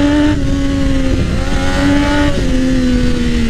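A Triumph Daytona 675R sport motorcycle accelerating hard, its loud, close engine note rising steadily with a brief dip and climb as it shifts, sustained throughout.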